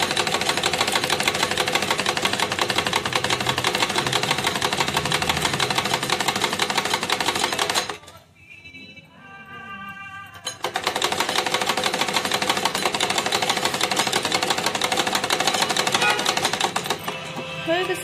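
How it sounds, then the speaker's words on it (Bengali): A sewing machine stitching a kurta runs with a loud, steady, rapid mechanical chatter, stops for a couple of seconds in the middle, then resumes at the same close, even pace until the end. "সিধে করে সেলাই করে আসছে।"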